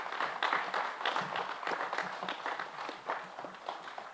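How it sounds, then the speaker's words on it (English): A round of applause at a traditional Samoan ava ceremony, scattered and uneven clapping from an outdoor gathering that swells early and then thins into looser, softer claps. "join me in a round of applause to honour those who have done just that"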